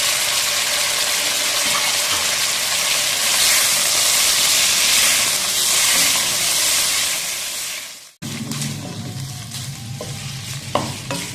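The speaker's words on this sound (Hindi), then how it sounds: "अब इसमें हम चिकन ऐड कर देंगे जो हमने फ्राई किया था" Pre-fried chicken tumbles into a pan of frying ginger and garlic for restaurant-style chicken Manchurian, a loud continuous sizzle and hiss that drops sharply and turns into clattering stirring and lighter frying.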